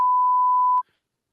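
A single flat censorship beep, a pure sustained tone lasting just under a second that masks a spoken word and stops sharply, leaving near silence.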